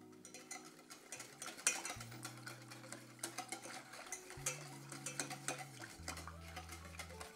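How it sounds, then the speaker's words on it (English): A whisk stirs gelatine into cream in a saucepan, giving quick clinking scrapes and taps against the metal with a steady rhythm, while low sustained background music plays underneath. "In fact, this part you can use a whisk."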